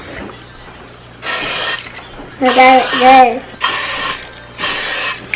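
Cooking spray hisses onto a baking pan in three or four short bursts of about a second each, close and loud, with someone speaking briefly between bursts.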